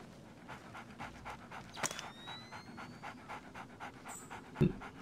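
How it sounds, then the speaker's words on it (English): Two guard dogs pant in Tom Clancy's Splinter Cell, a steady, rhythmic, close-up huffing that runs through the whole stretch with a few faint game noises in the background. "There are two dogs."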